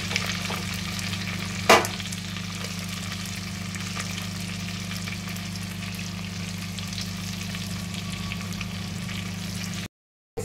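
Onions fry in a clay pot for chicken biryani, giving a constant close crackle over a low steady hum, with one brief knock near the start before the sound cuts off.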